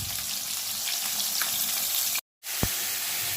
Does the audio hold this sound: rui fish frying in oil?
yes